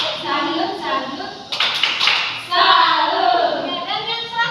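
Children clap along to a rhythmic "tepuk salut" chant in an Indonesian primary school lesson, bursts of sharp claps alternating with chanted voices.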